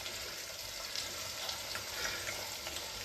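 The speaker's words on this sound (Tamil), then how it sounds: "கடுகு மட்டும் நல்லா பொரிச்சிருக்கா பாருங்க" Mustard seeds splutter in hot oil in a kadai, a dense, hissing crackle that stays steady and fairly faint for a few seconds with no voices.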